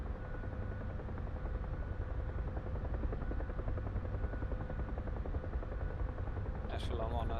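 A helicopter in the DCS flight simulator gives a steady, dense rotor and engine drone that fills the whole stretch without a break, with a brief electronic tone chirping near the end.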